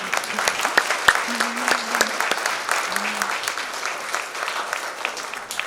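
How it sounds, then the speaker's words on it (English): An audience applauds educators at an Armenian Genocide education event, steady clapping filling the room throughout with a few louder individual claps and some faint voices underneath. "I think we should clap for them."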